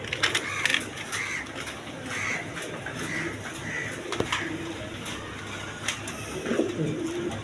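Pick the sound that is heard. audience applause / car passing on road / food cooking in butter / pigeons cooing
pigeons cooing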